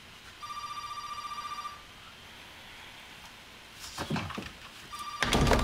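A telephone rings in a TV drama, a bright electronic trill that rings once for over a second and starts again near the end. Thumps and knocks sound between the rings.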